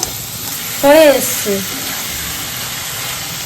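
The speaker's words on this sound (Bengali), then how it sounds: "এইভাবে উল্টে পাল্টে ঢাকনা দিয়ে ভাজবেন, আস্তে আস্তে করে ভাজবেন" Thankuni (pennywort) leaf fritters pan-frying, an even, close sizzle that runs the whole time, with someone speaking briefly over it early on.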